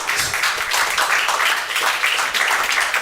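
Dense audience applause at a stand-up comedy show fills the room, many hands clapping steadily and close for a few seconds with no voices over it.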